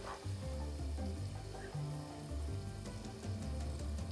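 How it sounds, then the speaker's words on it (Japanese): Protein batter steam-frying in a covered pan after water is added, making a low, continuous bubbling sizzle with faint crackles, steady and muffled under the lid, quiet and close with no voices. "お水ですね、適当に入れていきます。 で、蓋を閉めて蒸し焼きにしていきます。"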